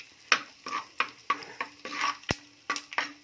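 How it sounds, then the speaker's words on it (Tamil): Dried karuvadam crackling and popping as it fries in hot oil in a pan, close up, with repeated stirring scrapes and clinks at a steady rhythm. "நல்லா அதை பொருந்து படபடன்னு பொரியுது"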